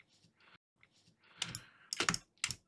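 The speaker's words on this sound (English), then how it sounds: "I'll type in 150 and click done." Soft keys tap on a computer keyboard in a few quick clusters, with a couple of sharper clicks near the end, close and fairly quiet in an otherwise still room.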